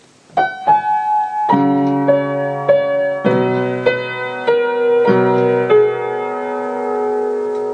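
Piano playing one bar of a piece from Twilight, a slow series of sustained notes and chords struck one after another, ringing clearly with no voice over them.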